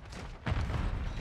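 Grenade blast in the shooter game Modern Warfare 3: one sudden, heavy boom that rings out and lingers, fairly quiet overall, with no talk over it.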